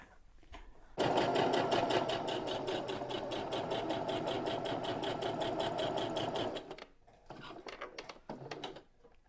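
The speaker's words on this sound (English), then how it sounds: "now go and put a line of stitching down that centre" A sewing machine runs a steady line of stitching down the centre of a fabric lanyard, a loud, continuous rapid whirr for several seconds, then a few shorter bursts as it slows and stops.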